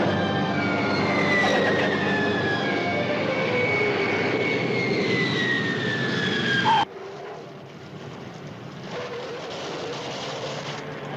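A reconnaissance aircraft engine drones loudly and steadily with a slowly falling whine, then abruptly drops to a quieter, duller hum.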